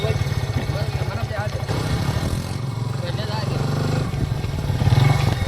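A motorcycle engine running close by in a village, a steady mid-pitched throb that carries through the whole stretch beneath people talking.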